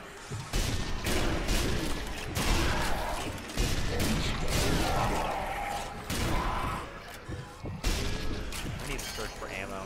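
Gunfire in the zombie shooter Zombie Army Trilogy, repeated shots and blasts crowding a busy battle mix, loud and close, with voices talking over the action.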